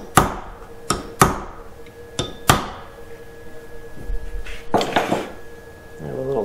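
A hammer strikes aluminium to form flutes on the vertical fin of a CriCri airplane, giving a series of sharp metallic taps at an uneven pace, close up, with a few softer knocks near the end.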